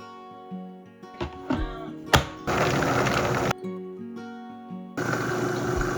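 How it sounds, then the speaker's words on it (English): Countertop blender working a thick, smooth paste seasoned with salt, lemon juice and cracked pepper: a few short pulses and thumps, then two sustained loud whirring runs separated by a quiet pause, close by. "my blender, because it wasn't quite enough to blend it well"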